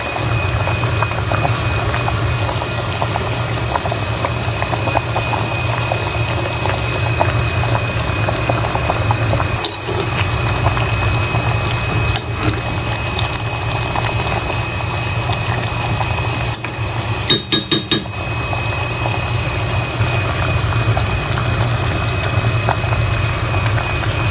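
Chicken tinola soup bubbles in a covered pot, a steady close simmering hiss that runs throughout with a brief clatter of the lid partway through.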